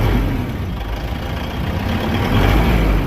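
A 4D56 diesel engine runs loud and close for three seconds, a steady low rumble that rises slightly toward the end, with no talk over it.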